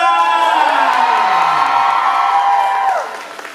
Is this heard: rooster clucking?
no